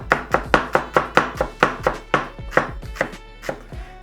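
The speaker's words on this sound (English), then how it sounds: "So we're gonna chop our shallots." Shallots chopped quickly with a knife on a board: a fast, steady run of about fourteen crisp, evenly spaced strikes over four seconds, close and clear, with no talking.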